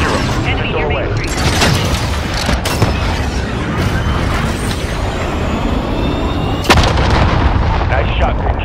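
Loud, dense gunfire and explosions from a Call of Duty Modern Warfare team deathmatch, with sharp repeated shots and heavy blasts over a constant battle rumble, and voices talking over it.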